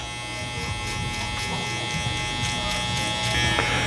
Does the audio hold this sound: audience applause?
no